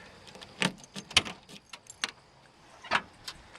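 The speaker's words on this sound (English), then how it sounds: "let me open up the trunk" Keys jangle and clatter while the trunk of a 1979 Malibu is unlocked, a series of faint metallic clicks and rattles with short pauses between them.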